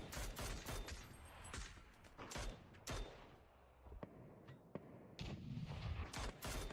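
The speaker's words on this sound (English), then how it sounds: "more mortars going out" Mortar fire in a video game booms out over and over, heavy thumping blasts arriving in irregular succession with a busy rumbling bed of battle noise between them. The level stays fairly quiet, with no voices.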